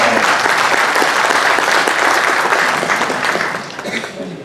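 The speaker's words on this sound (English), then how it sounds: "Round of applause." A crowd claps in a round of applause for veterans at the Opry, loud and dense from the start, then slowly tapering and thinning out toward the end.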